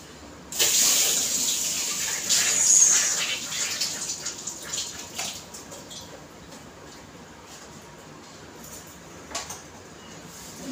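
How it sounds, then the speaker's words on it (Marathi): A kitchen tap runs as hands are washed during cooking. Water splashes in an irregular hiss for a few seconds, then settles to a softer trickle, with faint clinks and one more splash near the end. "हात धुवून घेते."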